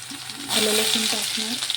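Chopped ginger and garlic hit hot oil in a pan for Marathi-style ragda pattice, bursting into a loud steady sizzle after a brief quiet start and crackling on to the end, with a voice speaking softly underneath.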